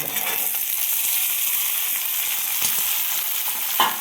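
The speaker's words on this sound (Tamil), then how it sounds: "இப்போ வந்து தக்காளி வதங்கிட்டு இருக்கும்போதே நம்ம வந்து இந்த வெட்டி வச்ச உருளைக்கிழங்கு, பலாக்கொட்டை ரெண்டையுமே அதில் சேர்த்துடலாம்." Diced potato and jackfruit seeds fry with softening tomato in a pan, giving a steady close sizzle with occasional stirring scrapes and a sharper clack near the end.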